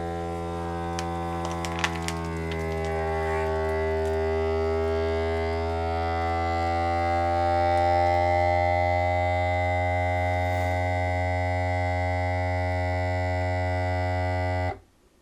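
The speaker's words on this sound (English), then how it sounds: "we're going to do a dry vacuum seal" A vacuum sealer's small pump motor runs a dry food seal with a steady, droning electric hum for about fifteen seconds, then shuts off abruptly.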